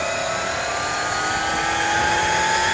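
A Roban HH-60 Jayhawk scale RC helicopter with a 600-size motor spools up, giving a steady whirring roar with a high whine that climbs gradually in pitch over a few seconds.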